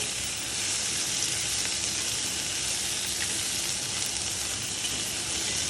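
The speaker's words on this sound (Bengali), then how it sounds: "এবার পেঁয়াজ আর লঙ্কাটা দিয়ে দিল। পেঁয়াজ আর লঙ্কাটা একটু ভাজতে হবে।" Onion and green chili fry in a pan with a loud, continuous hissing sizzle that stays even throughout, close up with no talking.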